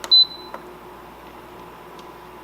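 An Instant Pot pressure cooker gives a single short, clear electronic beep as it is switched to saute mode, followed by quiet room tone with a faint click.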